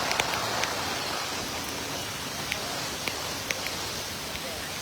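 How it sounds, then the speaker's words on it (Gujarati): Rain falls steadily as an even hiss with occasional sharper drop taps, soft and continuous throughout. "અમારે તો અહીંયા વરસાદ ચાલુ થઈ ગયો છે"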